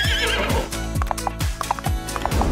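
A horse neighs loudly in a long whinny over steady, rhythmic clip-clop hoofbeats, a sound effect standing in for a finger pony toy, with no one talking.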